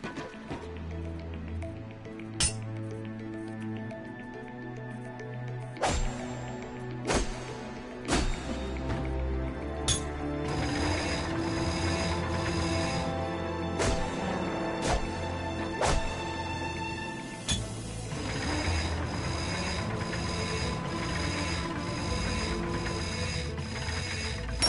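Bolt crank being spun in a PS4 video game, giving steady mechanical ratcheting and clicking under a busy layer of game music and effects, with a few sharp clunks.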